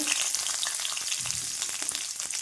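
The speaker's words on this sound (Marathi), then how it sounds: "कढईमध्ये आपल्याला हे कांदे आहे बघा हे कांदे भाजून घ्यायचे" Onions frying in a kadhai for restaurant-style palak paneer, a steady close sizzle with crackling pops and a brief low stir in the middle.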